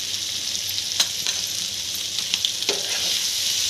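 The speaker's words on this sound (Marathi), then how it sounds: "आणि आणखी दोन मिनट मी परतून घेते मोठ्या गॅसवरती" Liver being stir-fried on a tawa over a high flame, a bright continuous sizzle with quick spatula scrapes and taps, close and unvoiced.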